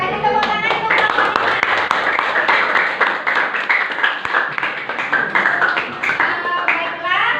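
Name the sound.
applause for presenting group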